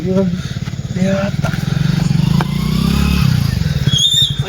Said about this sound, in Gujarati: તારી બાઇકનો અવાજ આવે